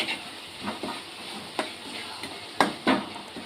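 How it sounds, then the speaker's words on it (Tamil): Tomato pieces sautéing and being stirred in a pan while making masala oats, with a soft sizzle under scattered scraping and clinking spoon strokes. "தக்காளி நல்லா வதங்குற அளவுக்கு நல்லா வதக்கணும்."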